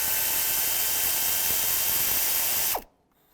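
A ratchet with a 10mm socket backs out intake bolts on a Chevy Trailblazer, a steady, close, fast clicking that stops abruptly near the end.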